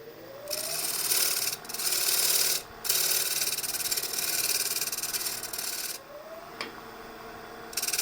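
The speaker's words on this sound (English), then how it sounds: "And just sand this part" Wood sanded by hand, steady rasping strokes back and forth with brief pauses between passes, close and fairly loud with no talking.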